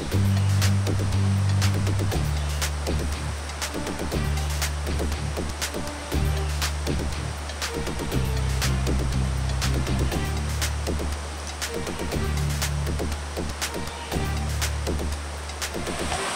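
Water lapping near a campsite, a continuous wash of waves with low rumbling swells and scattered splashes, fairly loud and close, with no talk.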